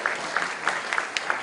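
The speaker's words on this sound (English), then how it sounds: "let's give Haider a huge round of applause for doing this on his own" Sparse clapping from a small audience honoring a guest at a university event, a few distinct claps repeating at a slow, uneven pace, moderately distant and fairly quiet.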